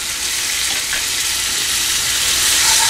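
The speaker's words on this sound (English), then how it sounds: "Now I'm going to add our chopped tomatoes." Chopped tomatoes hit hot egg curry masala in a pan and sizzle loudly, a continuous bright frying hiss that swells slightly toward the end.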